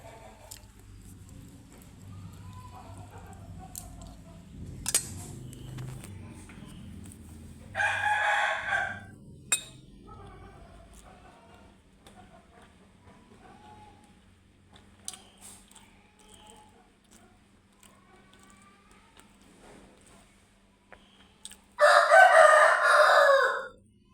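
A rooster crows twice with a long pause between. The first call is shorter and moderately loud, the second is louder and closer. Quiet stretches between them hold faint clicks and low rumbling.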